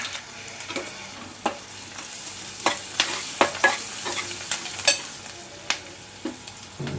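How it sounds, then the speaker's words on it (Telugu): Onion pieces frying with turmeric in oil sizzle steadily in a pan while a utensil scrapes and taps in a fairly regular stirring rhythm, close and clear. "ఉల్లిగడ్డ ముక్కలు అయితే మంచిగా గోలినాయండి"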